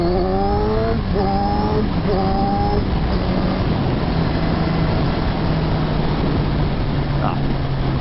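A Kawasaki Z1000R motorcycle accelerates on a test ride, its engine climbing through several quick rising pitch sweeps before settling into a steady loud drone under strong wind rush, with a voice speaking over it.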